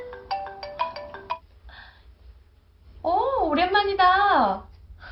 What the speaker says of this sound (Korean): 이때 전화가 걸려옵니다.